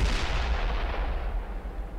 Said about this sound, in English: the tank's pretty adamant at shooting this thing